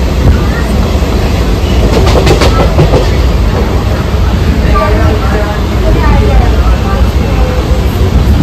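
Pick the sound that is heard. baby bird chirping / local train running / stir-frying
local train running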